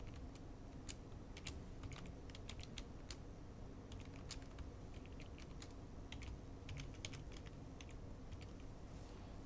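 Fingers type on a computer keyboard in quick, irregular clusters of light clicks, faint over a steady background hiss, with no talking.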